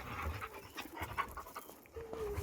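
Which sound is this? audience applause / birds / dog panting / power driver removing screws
dog panting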